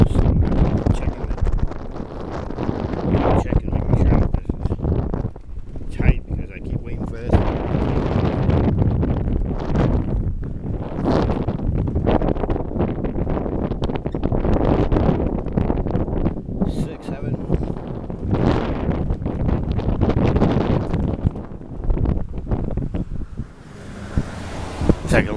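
Strong nonstop wind roars outdoors by the water, loud and continuous, buffeting the microphone with steady gusts and a surf-like rush underneath.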